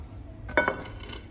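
A metal frying pan (kawali) is picked up and handled, giving a brief clear clink and a second lighter knock against faint room hum.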